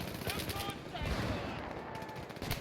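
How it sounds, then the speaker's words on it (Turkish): Rapid gunfire from the video game Battlefield 3, sustained bursts of shots crackling almost continuously for under three seconds at a steady, moderately loud level. "Ben şu an ateş ediyorum hiç farkında değilim"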